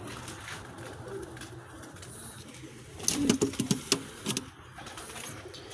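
Domestic pigeons coo in a short, soft burst of throaty calls midway through, set against a quiet indoor background hum.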